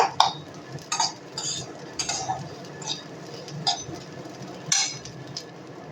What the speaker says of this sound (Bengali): ঠিক এই চালটাও কিন্তু আমি একটু নেড়ে চেড়ে ভেজে নেব।